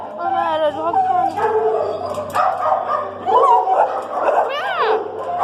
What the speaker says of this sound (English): I'm at a dog pound.